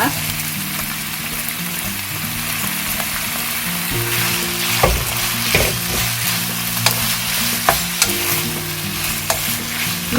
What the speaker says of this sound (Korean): 이제 기름의 온도가 이렇게 올라왔을 때 감자를 넣고 볶아주시면 됩니다